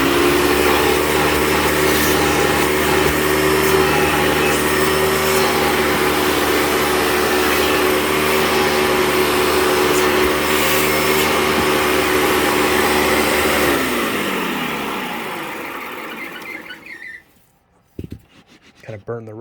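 A Hoover Dimension Supreme vacuum cleaner runs loud and close on a living room rug, a strong steady motor roar that winds down near the end, its pitch falling before it cuts to near silence.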